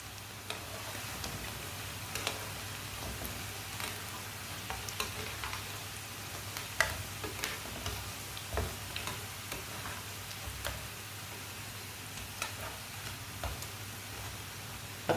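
Kebabs frying in oil in a pan on a stove, a steady low sizzle with faint crackles and small pops running throughout, fairly quiet and without talk.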